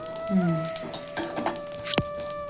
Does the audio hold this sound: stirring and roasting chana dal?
yes